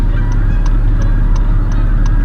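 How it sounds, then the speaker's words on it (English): A flock of geese honks steadily at dusk as the birds take off, regular calls repeating about every third of a second over a loud low rumble of wind or wingbeats, with no talking. "So a lot of geese are taking off"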